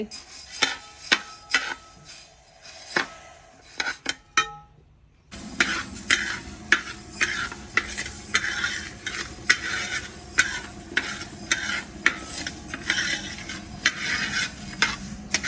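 Chutney powder ingredients, including rice and black pepper, roast in a pan while being stirred, giving repeated dry scraping and rattling strokes close by, with a short pause before steady stirring resumes, and no talk.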